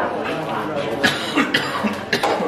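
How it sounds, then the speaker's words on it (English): A person gives a smoker's cough, several short rough coughs scattered across the moment, mixed with nearby conversation during a school tour. "Smoking cough."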